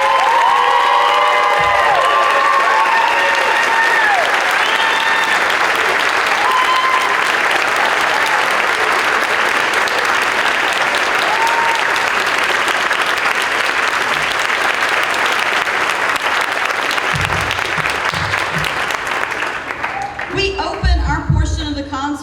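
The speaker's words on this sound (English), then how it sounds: "stand while we applaud their final performance with us." Long, loud applause with cheering and whistles from a concert audience honoring high school band seniors at a spring concert, sustained for about twenty seconds before tapering as voices emerge.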